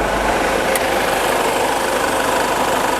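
A remapped Isuzu MU-X engine idles with its exhaust pipe replaced, giving a loud, close, steady rumble with an even, unbroken drone and no voices.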